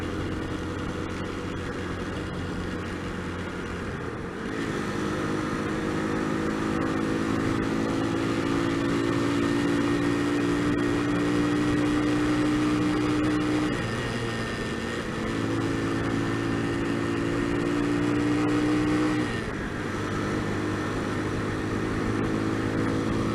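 A motorcycle cruising along a road with a steady, loud engine drone, its pitch rising and settling as it accelerates and shifts, with wind rush throughout and no speech.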